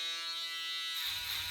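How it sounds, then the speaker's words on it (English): An electric shaver buzzing steadily and close while cutting hair for a mid drop fade, its high whine broadening with a low rumble as it meets the hair near the end. "Now we're going to repeat the same process with the shaver that we did on the other side."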